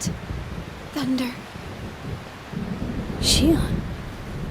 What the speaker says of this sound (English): I just really hate thunder.